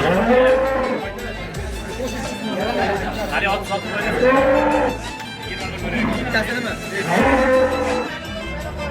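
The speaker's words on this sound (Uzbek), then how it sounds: "Sement sigirimiz keldi, hozir tekshiramiz." A Simmental cow moos loudly nearby several times, deep drawn-out calls, while people chatter and talk around it at a livestock market.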